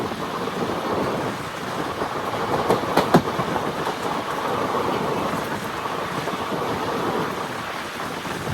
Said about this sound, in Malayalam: ട്രെയിൻ ഇപ്പോൾ തിരൂരിലേക്ക് എത്തുകയാണ്.